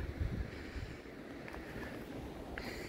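Wind blows across a coastal lookout path on the Rock of Calp above the sea, a faint steady rush with low buffeting at the start and no one speaking.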